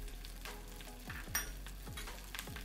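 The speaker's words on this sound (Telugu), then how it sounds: "ఆకు మంచిగా ఫ్రై కావాలి, కొంచెం బ్రౌన్ కలర్ వచ్చేంత వరకు," Gongura (sorrel) leaves fry in oil, a soft sizzle with a few sharp spatula scrapes and knocks in an uneven rhythm. Each stroke is quiet and close.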